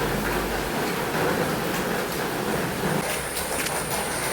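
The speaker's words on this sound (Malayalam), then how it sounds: "ഇവിടെ നല്ല മഴയാണ്" Heavy rain pours steadily as a dense, even hiss that fills the scene from start to finish, with no voices heard.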